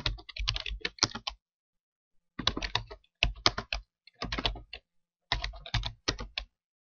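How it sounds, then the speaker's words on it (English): Names being typed on a computer keyboard into a spreadsheet, in several short bursts of quick key clicks separated by silent pauses, close and clear with no talk. "I'll go to cell A7 and I'll type in name, and I'll just type in some generic names here"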